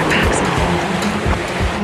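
Waves wash loudly near the water, a constant rushing surf heard through a rough radio link, with low thumps and crackle under it.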